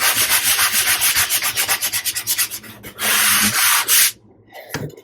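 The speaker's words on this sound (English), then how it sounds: "just start sanding it until it's smooth" Hand sanding dried drywall mud over a repaired wall crack, loud close rhythmic scraping strokes in quick back-and-forth bursts, then a few longer sweeps before stopping.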